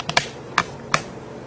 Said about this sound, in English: Sorry for the noise on the tripod.